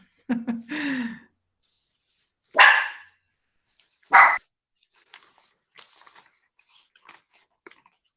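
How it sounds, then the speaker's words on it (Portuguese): A hungry female dog barks nearby: a quick double bark and then two more single sharp barks spaced a couple of seconds apart, loud against a quiet room, followed by faint small clicks. "Tem uma cachorra latindo aqui, indignada, que está com fome."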